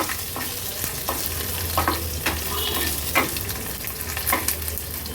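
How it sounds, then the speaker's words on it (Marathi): Steady sizzling of garlic cloves, green chilli and dried red chilli frying in hot oil, with a spoon scraping and stirring the pan every second or so, close and continuous. "फोडणी थोडीशी हलवून घ्यायची आहे"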